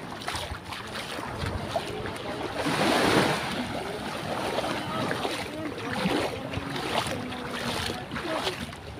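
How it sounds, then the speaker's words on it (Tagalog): Waves and rushing water at a wide river mouth, a continuous outdoor wash of surf with wind noise that swells slightly midway. "Laki ng bunganga ng ilog oh."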